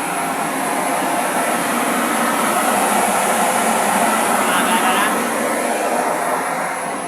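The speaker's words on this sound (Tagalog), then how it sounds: "Patayin na muna natin yung blower. Maingay." An industrial blower running loudly, a constant rushing whoosh of air that fills the whole stretch without change.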